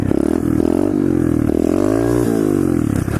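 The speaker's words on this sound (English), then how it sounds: "I've been trying to like get like first gear wheelies" A pit bike's small single-cylinder engine revs hard and loud near the rev limit during a first gear wheelie, its rising and falling harmonic whine filling the whole clip.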